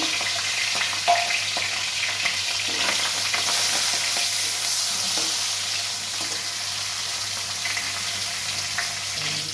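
Kajuli fish, seasoned with turmeric, fries in a pan with a steady close sizzle and faint scraping stirs, continuous for about ten seconds without talk.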